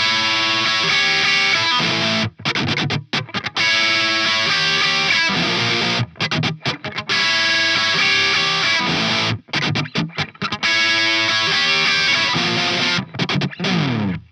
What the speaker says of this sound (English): To start the song we have a good amount of distortion going on.